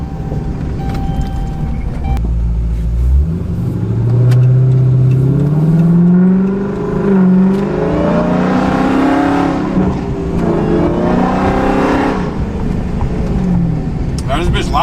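A supercharged 5.7 Hemi car accelerates and revs hard, its loud engine rising and falling in pitch throughout, with someone talking over it.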